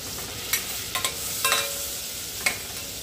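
Minced garlic sizzles in about two tablespoons of butter for homemade mushroom soup, a soft steady hiss close by, broken by a few sharp utensil taps and scrapes.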